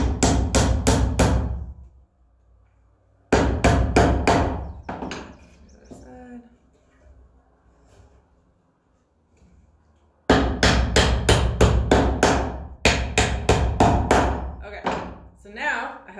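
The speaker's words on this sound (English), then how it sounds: "just line it up and make sure I'm pressing down where they're overlapping and then just hammer it" Bursts of sharp, loud, closely spaced hammer strikes join overlapping roof pieces of a DIY wooden birdhouse, in several separate groups with quiet pauses between them.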